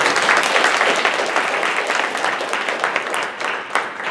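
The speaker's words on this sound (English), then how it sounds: "please again, give a round of applause for Gary McCoy" At a water professionals' annual conference session, an audience gives Gary McCoy sustained applause, a full, even roar of clapping from many hands that carries on without a break.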